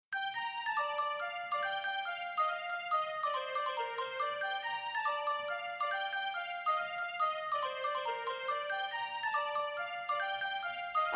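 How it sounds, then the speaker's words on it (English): Several cell phones ring at once in a school classroom during a high school musical, layering bright chiming ringtone melodies into a loud, continuous jangle with no talking. "The dreaded cell phone symphony."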